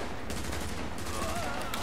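Gunfire in the video game The Division, a dense continuous burst of rapid shots over a loud, busy background, close and sustained for about two seconds.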